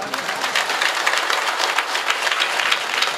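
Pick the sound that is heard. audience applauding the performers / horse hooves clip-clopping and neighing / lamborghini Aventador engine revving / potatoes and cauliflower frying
audience applauding the performers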